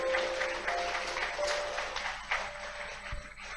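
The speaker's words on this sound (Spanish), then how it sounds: "Dale un fuerte aplauso al Señor" An audience at a Catholic preaching gathering claps loudly and steadily, a dense, continuous wash of hands that fills the whole stretch without pause.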